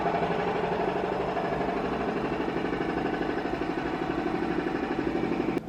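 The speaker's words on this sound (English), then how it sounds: "all you hear is the sound of a jackhammer or whatever it's called happening over in the construction" Jackhammer pounding at a construction site down a New York City street, a continuous rapid mechanical rattle, steady and fairly loud throughout with no pauses, no talk.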